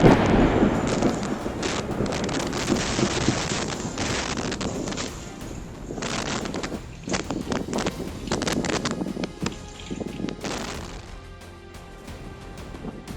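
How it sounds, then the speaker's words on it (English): Fierce winds batter Seattle, tossing yard furniture about, with loud, continuous gusting and buffeting across the microphone, broken by sharp bursts and clatters. "Seattle battled fierce winds with yard furniture,"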